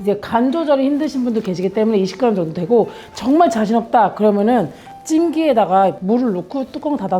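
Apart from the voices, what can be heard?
No everyday noises stand out.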